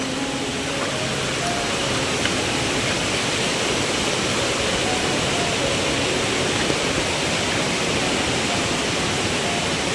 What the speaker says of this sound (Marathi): हा बघा मित्रांनो निसर्गरम्य धबधबा,